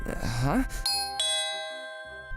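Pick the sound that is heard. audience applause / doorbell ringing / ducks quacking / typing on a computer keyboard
doorbell ringing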